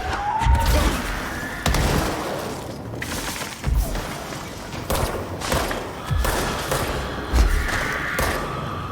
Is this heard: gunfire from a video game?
yes